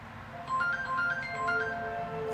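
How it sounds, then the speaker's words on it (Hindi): A melodic phone ringtone plays in a Pakistani TV drama scene, a soft electronic tune of short repeating tones, fairly quiet and steady, with no voices over it. "एक मिनट में आता हूँ, अमन का फोन आ रहा है।"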